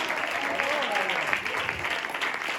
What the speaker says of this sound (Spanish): Gócese, iglesia, dale palmas a Dios